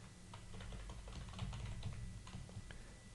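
Quick, soft keystrokes on a computer keyboard while HTML form code is edited, an irregular close run of taps with no talk over it.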